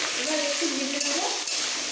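Chopped chilli and boiled corn frying in a pan for masala dosa filling, a loud dense continuous sizzle with a brief scrape of stirring.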